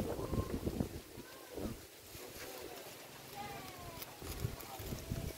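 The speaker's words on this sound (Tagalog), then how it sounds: "lakas ng hangin" Gusty wind buffets the microphone in low rumbling bursts, rising and falling across the recording.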